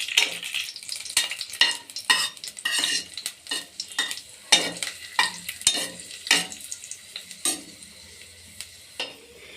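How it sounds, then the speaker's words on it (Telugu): Cashews and raisins frying in hot ghee sizzle close by while a spoon stirs and scrapes the pan in repeated sharp strokes, about a dozen over several seconds. "నెయ్యి వేడెక్కాక జీడిపప్పు కిస్మిస్ వేసి లైట్ గోల్డెన్ బ్రౌన్"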